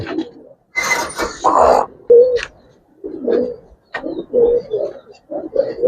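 Giribaz and colouring pigeons cooing in a loft, a series of soft low coos repeating close by, with a brief burst of wing-flapping or scuffling near the start.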